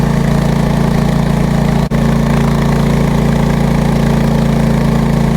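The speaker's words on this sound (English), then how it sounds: "the bike's running beautiful today." A motorbike engine running on a snowy mountain road, a loud steady throbbing drone close to the microphone with one brief dip, no talk.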